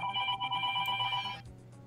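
Mobile phone ringtone ringing, a bright repeating electronic tone pattern, fairly loud and close, cutting off abruptly after a couple of seconds.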